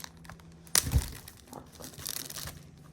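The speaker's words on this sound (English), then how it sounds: "It's even still in the bag, so let's open this up." Someone opens the plastic bag holding a comic book. There is a sharp crinkle and tear, then softer rustling crinkles, all close up and with no talking.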